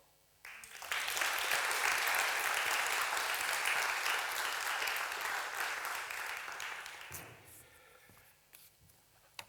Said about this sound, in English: I would suggest you make them feel welcome with an applause